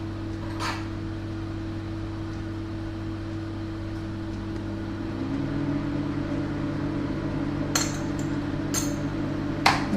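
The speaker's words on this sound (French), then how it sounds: "Là, je vais mélanger sur vitesse lente, juste pour incorporer les ingrédients" An electric mixer runs on low speed through cake batter of salt, crème fraîche and vanilla for a lemon blueberry cake, a steady loud hum that rises slightly midway, with a few faint clinks.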